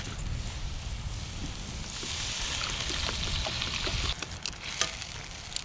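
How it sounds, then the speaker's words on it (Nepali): Water pours into a cast-iron pot for ramen cooking over an outdoor bonfire, a rushing splash building under wind noise, then a few knocks and sputters. "पानी ल्याऊ पानी हालौँ अब."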